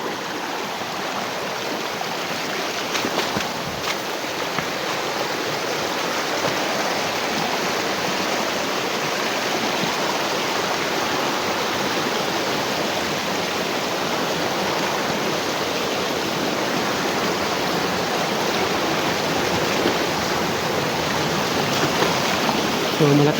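A flowing creek rushes steadily and loudly close by, a constant broadband splashing gurgle of moving water that continues without pause throughout.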